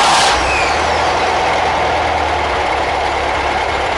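A VW 1600cc air-cooled engine fires up and runs at a steady, loud, close idle, a continuous low rumble after a brief start, with no talking.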